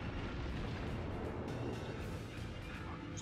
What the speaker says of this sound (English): Double torpedo hit.